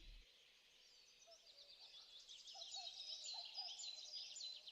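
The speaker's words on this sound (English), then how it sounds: "Morning birds." Morning birdsong plays as a tabletop role-playing game sound effect, with several small birds chirping and trilling in quick overlapping tweets, fairly faint but clear over an otherwise quiet background.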